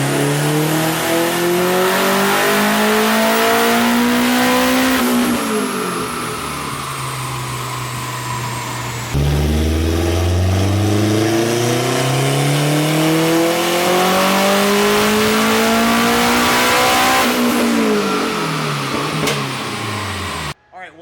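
A turbocharged K24 Honda Civic Si engine on a dyno, loud and close, rising through sustained high-rpm pulls with turbo whine, backing off between runs, and a voice talking over it.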